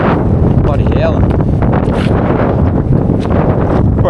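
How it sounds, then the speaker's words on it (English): Strong wind roars without a break across the microphone beside a river while fishing for Murray cod, a loud, constant gusting rush that buries faint voices. "Hopefully the wind dies off. It's been windy all day."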